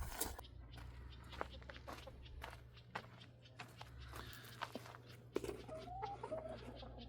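Chickens cluck and shuffle about at a distance, with a brief rooster call near the end, scattered footsteps and soft knocks over a steady low hum.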